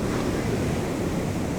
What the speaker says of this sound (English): taking on these gargantuan waves at the risk of their lives